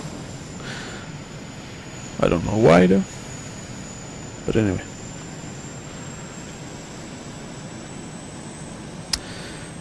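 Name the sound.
A-10 Thunderbolt jet aircraft flying in video game Arma 2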